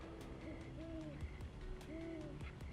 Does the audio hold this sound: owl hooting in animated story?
yes